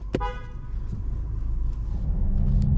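A Ford EcoBoost car with a misfire backs out, and a short horn-like toot opens before the engine settles into a low, steady rumble that swells slightly, close by and heard without speech.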